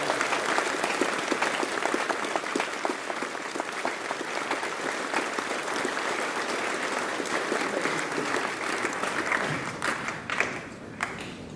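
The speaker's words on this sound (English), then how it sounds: "let's give them a big round of applause." Sustained applause from the audience at the 2012 New Mexico Tech university convocation, a dense, even round of clapping lasting over ten seconds before it thins into a few scattered claps.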